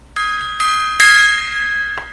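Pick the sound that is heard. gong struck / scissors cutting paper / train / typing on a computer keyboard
gong struck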